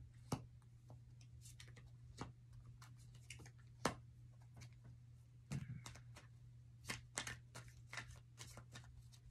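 Tarot cards being shuffled and drawn give off soft, irregular flicks and taps, spread across the span over a steady low hum, with no talking.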